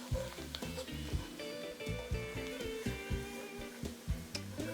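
Roux cooking and browning in a pan in a Louisiana kitchen, a soft, steady sizzle with light stirring scrapes beneath louder background music.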